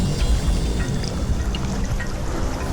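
Fast river rapids with a strong current roar and churn steadily, a loud, dense rush of water close by with no talk.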